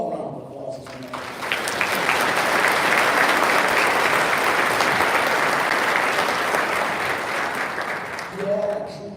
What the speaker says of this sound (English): Give them all a round of applause this morning.